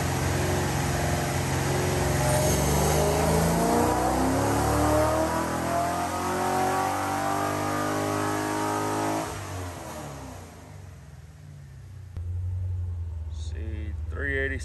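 A clean 2005-era LS2 V8 Pontiac GTO revving up under load on a hub dyno, engine pitch climbing steadily to a loud peak before the throttle drops and it settles to a lower idle.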